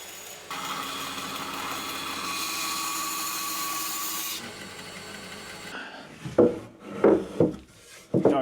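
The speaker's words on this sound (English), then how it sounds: "get this cut out on the bandsaw" A bandsaw cuts a curve into a wooden garden bench arm, a steady broadband rasp running for about four seconds, then dropping away before some louder knocks and handling sounds close by.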